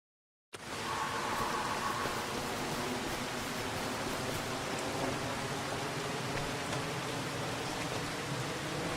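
Steady, even rain hisses without a break in the farming video game Farming Simulator 25, with no other sounds and no voices.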